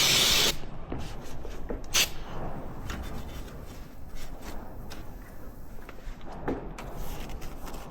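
Wurth multi-purpose solvent sprays in a short, sharp hissing burst to clean spilt brake fluid off a Victory motorcycle, followed by quiet handling noises and a few soft taps, close and without speech.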